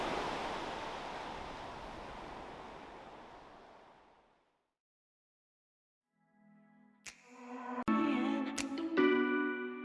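Waves at Pandawa Beach in South Kuta, Bali make a steady hissing wash that fades out after a few seconds, followed by silence and then music.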